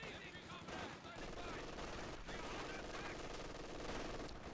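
MG42 machine gun fire in a Company of Heroes 2 match: dense, continuous bursts of rapid gunfire dominate a busy battle soundscape from start to finish.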